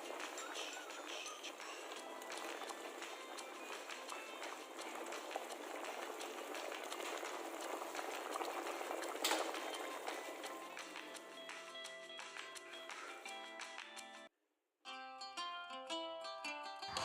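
Filipino pork nilaga stew boils steadily in a pot, giving a continuous quiet bubbling and simmering hiss. It breaks off briefly near the end before resuming.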